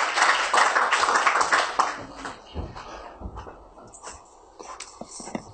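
Audience applause at a lecture welcoming a speaker, dense clapping that fades out after about two seconds, leaving scattered claps, shuffling and faint murmurs.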